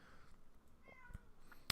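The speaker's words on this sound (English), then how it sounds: "She's meowing." A domestic cat meows softly indoors, a couple of faint mewing calls with a small clunk at the end and no talk.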